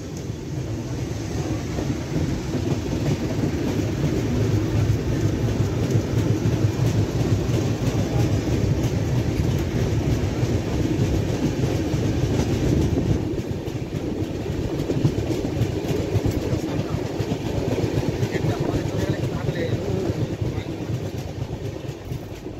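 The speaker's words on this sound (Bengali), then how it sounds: "বেলদা ছেড়ে ট্রেন এগিয়ে চলল রাজ্যের সীমানা ছাড়িয়ে ওড়িশা রাজ্যের পথে" The Howrah–Bhubaneswar Jan Shatabdi Express runs along the tracks with a continuous heavy rumble and steady wheel clatter, loud and unbroken throughout, heard from inside.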